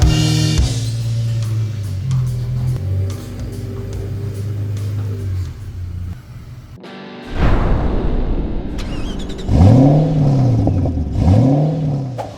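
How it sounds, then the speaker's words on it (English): A 2023 Ford Raptor with a 3.5-liter Ecoboost tuned on E85 runs on a dyno; a steady engine drone gives way to loud, rising revs that surge and fall in repeated pulls. "We're gonna be hitting on the dyno, seeing how much power it makes."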